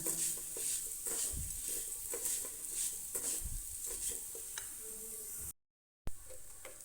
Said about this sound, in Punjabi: ਸੇਮੀਆਂ ਨੂੰ ਇਸ ਵਿੱਚ ਪਾ ਕੇ ਲੋ ਫਲੇਮ ਤੇ ਥੋੜਾ ਜਿਹਾ ਘਿਓ ਵਿੱਚ ਭੁੰਨ ਲਵਾਂਗੇ